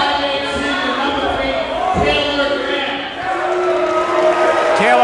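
A noisy crowd in a high school basketball gym keeps up steady chatter and calls, rising and falling, with occasional thuds and a voice talking over the din.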